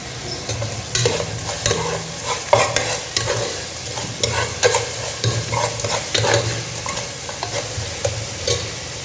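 Broken dried red chillies sizzling in a frying pan of hot oil for a fish curry (meen kulambu): a steady, close frying hiss with repeated stirring scrapes and clatters throughout, and no voices.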